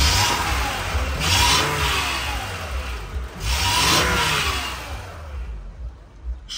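A car engine revs up in two strong surges at a Kyrgyz livestock and car market, each rise swelling and falling back before the motor settles, with no talk over it.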